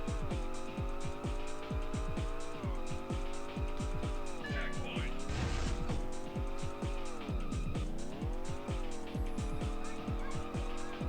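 In the video game Rush 2 Extreme Racing USA, a car engine revs and drops in pitch through gear changes with repeated tire squeals, loud and continuous throughout.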